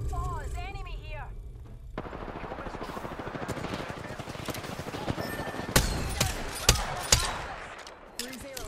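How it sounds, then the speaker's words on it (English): Gunfire in the shooter game Apex Legends, a rapid crackling stream of shots followed by several loud sharp reports near the end, with a voice heard briefly at the start. "Shots fired."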